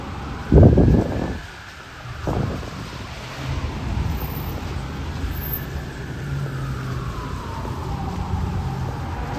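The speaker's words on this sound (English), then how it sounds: "Oh yeah, you hear the sirens." A police siren wails in the distance on a wet, foggy night, its pitch slowly rising and falling over steady wind noise, after a couple of louder thumps near the start.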